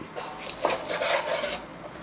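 A knife cuts boneless chicken pieces, making short close rasping and scraping strokes against a cutting surface, quiet and without talk.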